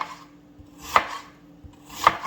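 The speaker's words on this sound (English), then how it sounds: "cut up our veggies here" Two sharp knife chops on a cutting board while vegetables and onion are cut for a no-dough pizza skillet, spaced about a second apart, close and distinct.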